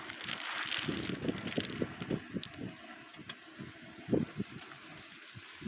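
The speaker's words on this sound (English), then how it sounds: "it's really windy" Gusty wind buffets the microphone in uneven bursts, a rough rushing noise rising and falling throughout.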